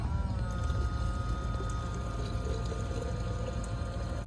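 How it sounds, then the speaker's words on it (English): A small 12-volt pump draws water from a tank into water bottles, giving a steady motor hum under a continuous close gurgling pour. "just going to be filling up our water bottles before we head into the camper"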